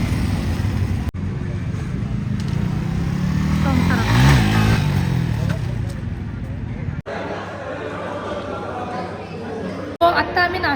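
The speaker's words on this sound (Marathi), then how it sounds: "बाईकची रेस चालली आहे" Motorcycles race past on a road on the way to Vrindavan, with engines swelling to a loud roar at the middle and fading away, while people chatter and crowd babble carries on throughout.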